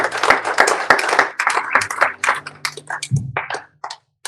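A church congregation claps and applauds to acclaim the Lord, a burst of fairly close, uneven handclaps that thins out and fades toward the end.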